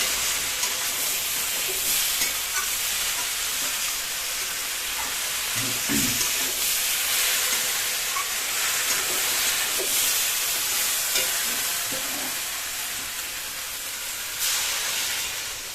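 Bottle gourd frying in a pan for a spicy tilapia curry gives a steady, loud sizzle and hiss throughout, with brief stirring scrapes, as water is added to the hot oil.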